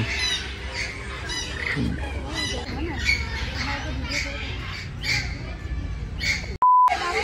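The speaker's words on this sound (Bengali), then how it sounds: "এর নাম হচ্ছে টোকো টুক্যান" Toco toucans at Eco Park Zoo in Kolkata give repeated harsh squawks amid outdoor crowd murmur, with a steady beep tone cutting in near the end.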